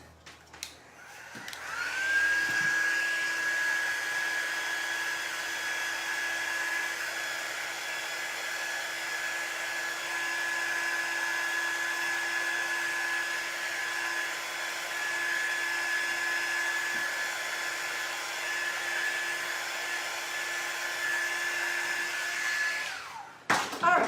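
A hair dryer blows continuously at close range to dry painted windows on a paper lunch bag gingerbread house, a steady loud whir with a constant tone, switched on at the start and off near the end, no talking.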